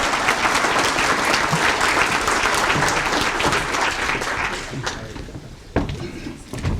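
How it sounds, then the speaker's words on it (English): Sustained applause from an audience at a local chamber of commerce awards celebration, steady and full for several seconds before thinning out, with a few louder claps and stray noises near the end. "Let's give them a round of applause"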